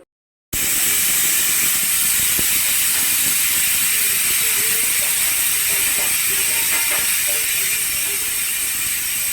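A mixer grinder whirring steadily as it grinds coconut and soaked nuts into a paste for vegetable kurma, a loud continuous buzzing hum that starts abruptly after a short silence.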